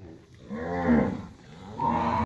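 Cows being moved to a new pasture give two long, loud, close moos, the second rising higher and cutting off abruptly.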